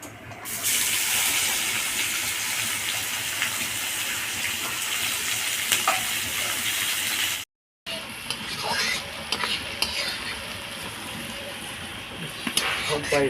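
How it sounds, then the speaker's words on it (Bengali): Sliced onions fry in oil with a little sugar until browned for a goat meat curry. A loud, steady, close sizzle cuts out briefly midway, then returns with occasional stirring clatter. "এবার পেঁয়াজগুলোকে লাল করে ভেজে নেব"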